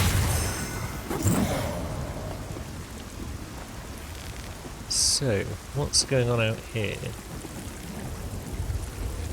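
Steady rain falls in the dark fantasy video game Lords of the Fallen, a constant hiss with low rumbling beneath it, while someone speaks briefly over it.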